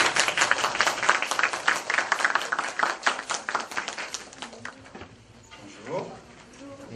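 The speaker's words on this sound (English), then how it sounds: "Give him a big round of applause." An audience claps for a speaker being introduced at a talk on French culture, a few seconds of fairly close, distinct handclaps that taper off into quiet, followed by a brief voice.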